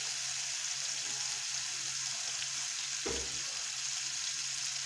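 Steady, soft sizzling of chicken breast frying in oil in a pan, with a brief clatter partway through; no talking.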